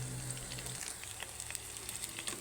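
Eggplant frying in hot oil, a steady close crackle and sizzle with dense popping throughout and no voices.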